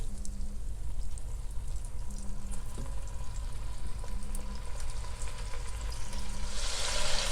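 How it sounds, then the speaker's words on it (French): Beef pieces sear in foaming butter and oil in a cast-iron pot, a steady close sizzle holding throughout with a faint low hum beneath and no talking. "on fait revenir sur chaque face les morceaux de viande"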